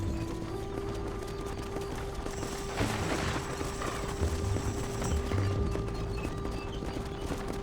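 Horses gallop in Red Dead Redemption on the way to the gates of El Presidio, a steady rush of hoofbeats running under a sustained musical drone with no talking.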